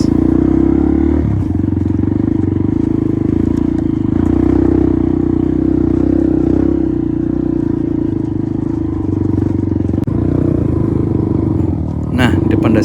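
A trail motorcycle drones loudly and steadily on a dirt track, its engine holding a constant throttle for the whole stretch, with a rider's voice talking over it and a short rougher surge at the very end.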